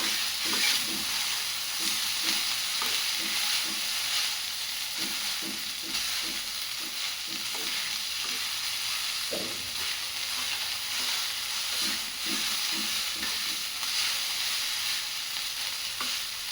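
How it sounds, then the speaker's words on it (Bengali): Chowmein being stir-fried with spices in a pan gives a steady sizzle with repeated scraping and tossing strokes in a loose rhythm, close and fairly loud, with no voices. "ভালো করে মিক্স করে নিই এটাকে পুরো মশলার সাথে"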